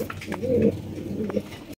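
Bombai pigeons coo nearby in a pigeon farm, two soft throaty coos with a faint background hum and no talking.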